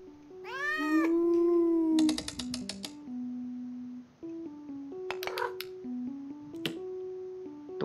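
A white Persian cat in The Cat Games video game meows several times in loud, stepped electronic tones, with clicky snapping game effects around them and no talking over it.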